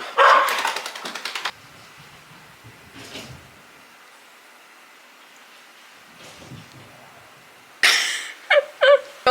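A wet dog just after a bath, heard in short bursts of shaking, splattering and scrabbling at the start and end on a wet indoor floor, with quieter rustling movement in between.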